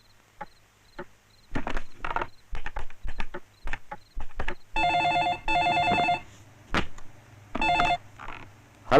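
A telephone rings in a tense political scene in a Kannada film, with repeated electronic ring tones mixed with short clicks and bursts of other sound, moderately loud, with no speech.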